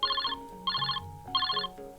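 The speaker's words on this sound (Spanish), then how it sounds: "escucha su teléfono sonar casi en cuanto sale de la ducha." A telephone rings in short repeated electronic trills, with a pause between each burst, loud and close.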